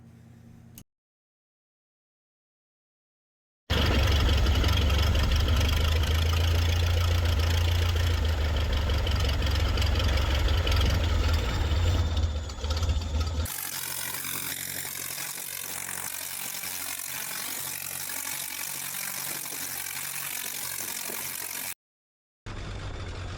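A 1925 Waco 9 biplane's piston engine runs up loudly with a deep, throbbing rumble, then settles to a lower rough idle; the recording cuts out briefly between sections.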